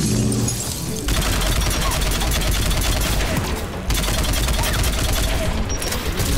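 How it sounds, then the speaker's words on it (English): Mounted turret gunfire in Mass Effect 3 on Rannoch, a dense, loud, continuous rattle of rapid shots with brief gaps, with game sounds mixed in. "Okay, we got turrets."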